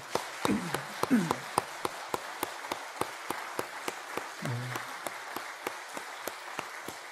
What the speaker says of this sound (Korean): 같이 한번 박수로 축복하겠습니다